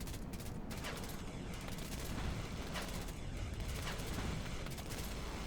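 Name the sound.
artillery fire in the video game Line War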